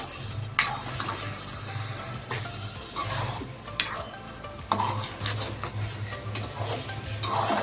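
A tomato and egg curry stirred slowly in a frying pan, soft scrapes and clinks of a spoon against the pan over a low steady sizzle, with a few sharper knocks, no voices.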